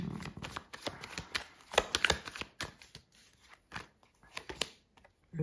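Tarot cards being handled and laid down one over another on a table, a series of soft, close card slaps and slides with brief rustling between them.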